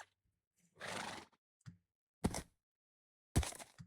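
A Minecraft horse neighs and jumps: a drawn-out synthetic whinny, then a few short thumping bursts spaced about a second apart, each clear and close against silence.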